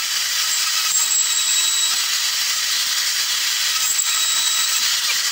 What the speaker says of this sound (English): just using a portable bandsaw. This one's a Milwaukee one